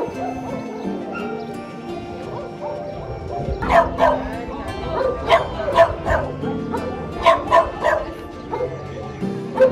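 Several dogs at an animal shelter bark, yip and whimper in repeated bursts close by, growing busier midway, over a steady background hum with people talking faintly.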